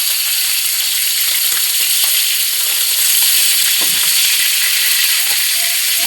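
Bangsi fish sizzles in hot oil in a pan, a loud continuous crackling hiss with scattered soft pops and occasional stirring knocks.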